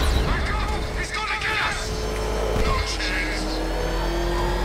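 Batmobile from Batman Arkham Knight in pursuit mode, driven through Gotham, its engine roaring steadily with tire skids and mechanical whirs, while a voice talks over it.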